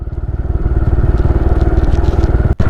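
A motorcycle running close and loud with a steady rapid engine throb, riding on a rural road in Ban Nam Chuang, Chat Trakan, Phitsanulok, Thailand, with a brief drop near the end.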